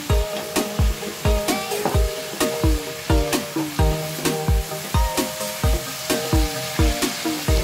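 Cauliflower florets fry in a hot pan for a vegetable biryani. A loud, steady sizzle runs throughout, broken by regular scraping stirs and knocks that fall roughly twice a second, close up and with no talk.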